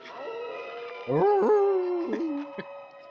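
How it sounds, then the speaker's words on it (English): A person howling like a wolf in the film Horror of Dracula, one long, wavering, rising and falling howl carried out in the open at moderate loudness, with no talk over it. "Pretty sure that was a person howling. That was not a wolf."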